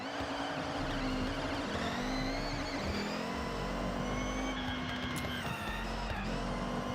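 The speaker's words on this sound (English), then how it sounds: "Listen to that engine." A car engine in the Forza Horizon racing game drones at a steady, sustained rev with small pitch rises and dips as it drives, loud and continuous throughout with no talking.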